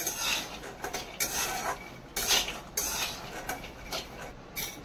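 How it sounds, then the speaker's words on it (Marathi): Peanuts dry-roast in a pan over medium gas, giving a close, irregular rattle of nuts and spatula scraping against metal in repeated stirring strokes. No one talks. "तर शेंगदाणे मी मीडियम गॅसवरती खरपूस होतपर्यंत भाजून घेत आहे।"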